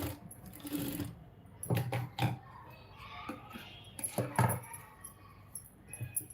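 Sewing machine stitching lining fabric onto a blouse, short bursts of mechanical whirring and clacking that start and stop a few times, fairly close and quiet, with no talk.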